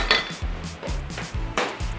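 Repeated scraping and clinking of a utensil against a bowl while stirring chicken satay marinade, a steady stirring rhythm with soft thuds, close by and with no voices.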